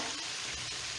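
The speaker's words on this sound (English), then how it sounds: "the fish is frying" Fish sizzles steadily in a hot frying pan, a dense, continuous crackle and hiss that stays close and even, with no talk.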